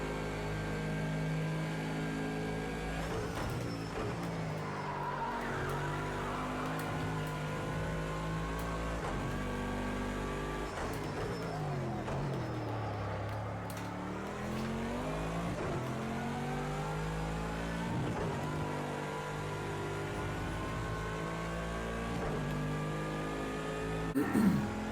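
A Bentley GT3 race car in Project Cars 2 at the Algarve circuit accelerates through the gears, its engine note repeatedly climbing and dropping with each shift, steady and alone.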